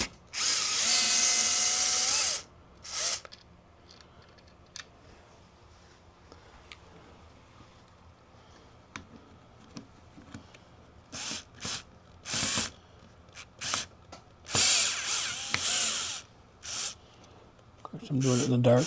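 Short bursts from a T15 driver loosening the factory cuff screws on a Can-Am Spyder, one long whir at the start and several brief ones near the end, with a voice talking quietly in between.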